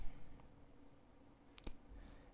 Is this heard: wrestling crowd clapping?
no